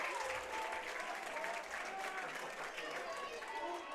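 Crowd at a high school baseball game at Wildcat Park, Sulphur Springs Wildcats senior night, cheering and clapping in a continuous wash, with a commentator talking over it.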